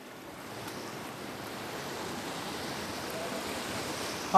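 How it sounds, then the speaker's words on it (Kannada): Dense, even rush of heavy monsoon rain in Mangaluru on the Karnataka coast, a continuous broadband hiss that slowly swells, heard without voices. "ಮತ್ತೆ ಮುಂಜಾನೆಯಿಂದಲೂ ಕೂಡ ಬಿರುಸಿನ ಮಳೆ"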